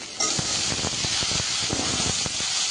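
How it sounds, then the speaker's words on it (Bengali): Taro pieces dropped into hot oil with fried onion tempering sizzle in a pan, a loud, steady hiss with small crackling pops throughout and no talking. "পেঁয়াজ ফোড়ন ভাজা হয়ে গেছে, এবার দিয়ে দিই"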